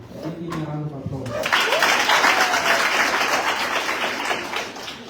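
Applause from a seminar audience on a university campus swells after a short spoken introduction, a steady crowd of clapping hands that holds for several seconds at moderate loudness.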